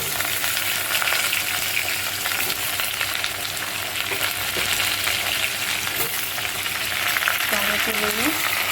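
Onion frying in a pan for chicken stew makes a steady, dense sizzle throughout, close and fairly loud, with occasional stirring scrapes and a brief voice near the end.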